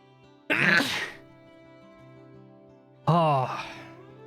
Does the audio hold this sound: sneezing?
yes